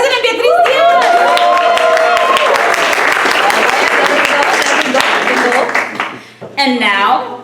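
Audience applause at a scholarship award dinner, a dense, loud wash of clapping that rises and fades near the end, with voices and cheering mixed in throughout.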